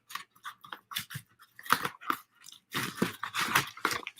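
A sports card package sealed inside a padded bubble mailer gives a run of crisp crinkling, crunching and pressing sounds, close up in irregular bursts with brief pauses.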